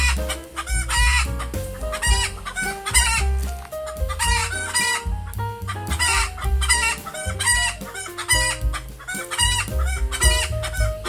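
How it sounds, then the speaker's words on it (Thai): Bantam chickens cluck busily and bantam roosters crow repeatedly, close and loud, overlapping calls filling the whole stretch with no talking. "นี่ครับไก่แจ้ที่ผมว่าเขาไม่สนใจไก่บ้านนะครับ"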